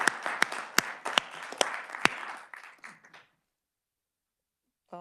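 A small group at a Kansas Senate tax committee hearing gives a brief round of applause: individual sharp claps stand out near and distinct, thinning and fading away after about three seconds into silence.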